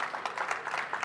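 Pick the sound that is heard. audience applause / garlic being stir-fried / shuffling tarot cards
audience applause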